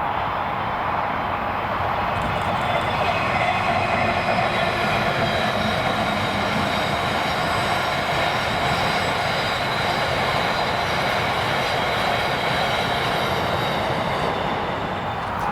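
A freight train, 6S37 hauled by locomotive 7806, passes by in Scotland, a loud steady rumble with rolling wagon noise and a brief rhythmic rattle of wheels, continuous throughout.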